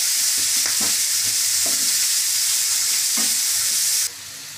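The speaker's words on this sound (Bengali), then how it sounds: "আমি কুচো করা পেঁয়াজগুলো দিয়ে দিচ্ছি। এগুলো আমি 1 মিনিটের জন্য ভেজে নেব।" Chopped onions fry in a hot pan for a Bengali egg masala curry, giving a steady loud sizzle with several scraping stirs of a spatula, then dropping quieter near the end.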